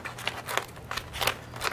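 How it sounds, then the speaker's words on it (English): Small children's scissors snip around a piece of paper, about five crisp cuts in an even rhythm, close and quiet, with no talking. "So I'm just going to take my scissors and just cut right around this."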